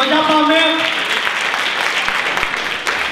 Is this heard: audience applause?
yes